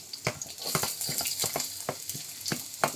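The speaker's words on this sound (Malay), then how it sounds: "Tumis dulu bawang putih" Garlic, shallots and lemongrass sautéing in a pan, a soft continuous sizzle broken by repeated stirring scrapes and clinks at an irregular pace.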